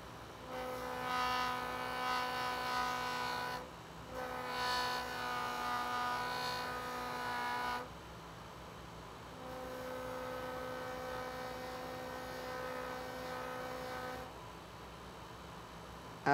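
A JoolTool rotary tool fitted with a felt wheel buffs a polymer clay piece, making a quiet, steady electric whine with a low hum that runs in several stretches separated by brief pauses.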